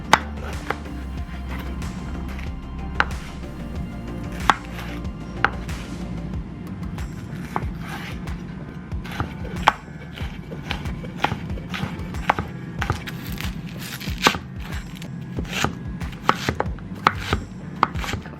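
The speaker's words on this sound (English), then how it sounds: "I'm gonna chop up a small onion and a red pepper" Small onion and red pepper chopped on a board, a long run of quick knife taps, steady and close, with occasional louder strikes and a low background hum.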